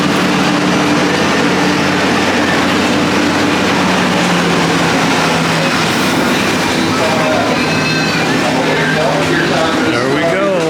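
The Wildlife Express train at Disney's Animal Kingdom rumbles steadily with a low engine drone and rolling rail noise, close and loud throughout, with faint voices mixed in.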